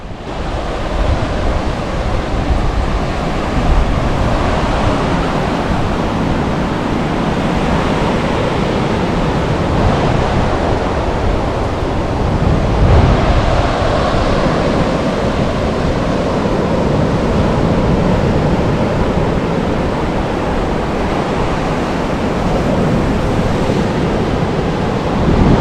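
Ocean waves surge and break onto a sandy beach at Yarra Beach, a loud continuous wash of surf with gusts of wind buffeting the microphone, and no voices.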